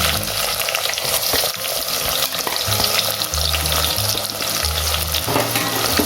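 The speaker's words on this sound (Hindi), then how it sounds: "इसको हम गोल्डन ब्राउन होने तक भूनेंगे" Two finely chopped medium onions frying with cumin in a pan, a continuous strong sizzle with stirring scrapes and low bubbling, close and busy, no voices.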